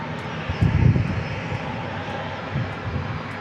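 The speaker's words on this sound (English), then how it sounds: "British Airways 777-300 taxiing towards us." A British Airways Boeing 777-300 taxis at San Diego International Airport, its engines giving a steady rumbling whine that swells briefly, then settles into a continuous outdoor drone.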